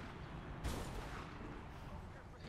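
Guards firing guns at the player in the Mirror's Edge video game, a sharp shot burst near the start followed by a rumbling, crackling spray of gunfire that continues at a fairly low level.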